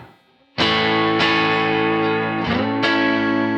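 Loud distorted Telecaster electric guitar chords on the neck pickup position ring out, an A struck about three times with long sustain and a wide, effect-laden tone, no voices.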